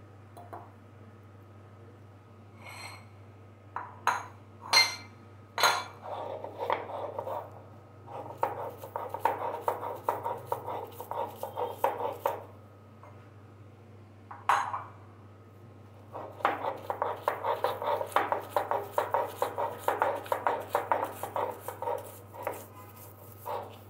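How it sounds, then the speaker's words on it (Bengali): Taki fish is ground into a paste by hand, giving soft, quiet, repeated scraping and squishing strokes in uneven bursts, with a few sharper taps over a low steady hum. "একটু অল্প অল্প করে মাছটা বেটে নেই"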